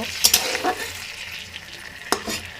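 Prawns frying in hot oil give a short, soft sizzle, with a few sharp scraping stirs and clinks near the start and one more near the end.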